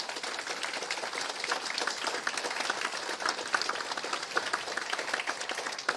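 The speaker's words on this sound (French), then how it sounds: "On les applaudit, s'il vous plaît." Dense, sustained applause fills a graduation ceremony hall at the Saint-Jérôme campus, with many hands clapping together in a steady, even wash of sound.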